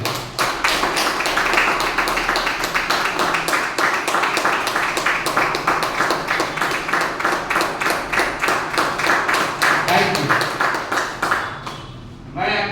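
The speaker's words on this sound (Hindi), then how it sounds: "जोरदार तालियां बजाकर स्वागत करेंगे" An audience at a Safe Shop business presentation venue claps hard to welcome a speaker onto the stage. The claps are loud, steady and rhythmic, keep going for about eleven seconds, then stop abruptly, with no talking over them.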